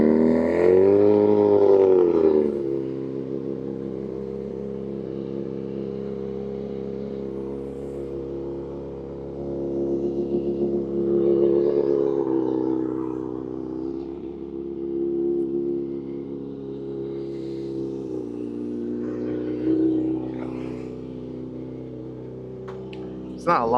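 A 2025 Kawasaki ZX-6R with an ECU flash by Two Wheel Dyno Works, its engine loud and close, blipped up sharply at the start, then settling into a steady, throaty idle with small rises in revs.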